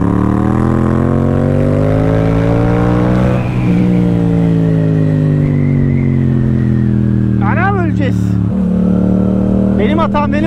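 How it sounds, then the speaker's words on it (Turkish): Yamaha MT-07 motorcycle ridden on a mountain road, its engine loud and close, rising in pitch through revs and dropping between gears, with a rider's voice audible over it in places. "Yani motor var altımızda, basıp gideriz."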